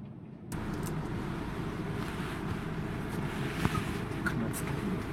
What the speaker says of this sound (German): ist ja heute hier windig hier oben